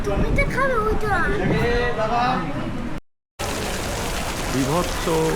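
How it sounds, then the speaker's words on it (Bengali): Rain falls steadily at Dakshineswar temple, a constant hiss under a person speaking close by, with a brief dropout in the middle. "বৃষ্টি হচ্ছে আজকে"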